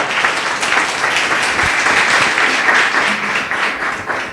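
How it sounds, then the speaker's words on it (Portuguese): A church congregation applauds loudly in praise during a service, a continuous dense roar of many hands clapping, close and strong throughout with no speech. "Palmas para Ele, bem forte."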